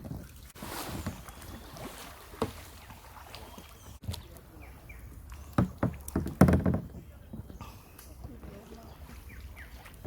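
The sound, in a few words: canoe being paddled on water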